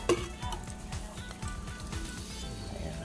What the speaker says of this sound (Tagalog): kumukulo na guys yung ating papaitan